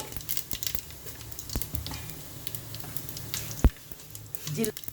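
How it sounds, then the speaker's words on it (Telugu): Mustard seeds hit hot oil in a pan, a soft crackling sizzle with scattered pops and one sharp knock, fairly faint, with a voice faintly in the background. "నూనె వేడైంది. ఆవాలు వేసుకోవాలి."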